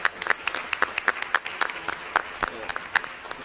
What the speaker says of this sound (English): let me give a hand clap for that report.